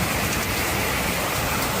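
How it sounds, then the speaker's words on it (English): Heavy rain pours steadily in a dense, continuous hiss and patter on surfaces, loud and unbroken throughout, with no voices. "Oh, I love the rain."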